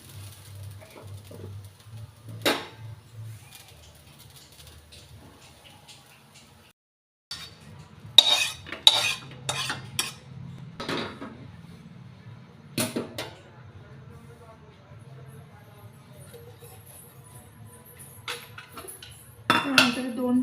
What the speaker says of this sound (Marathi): असं खरपूस भाजून घ्यायचं.